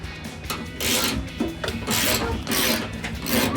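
A ratchet with a 10mm socket removing exhaust hanger bolts on a Ford F-150, giving repeated rasping clicks in bursts separated by brief pauses, close and fairly loud.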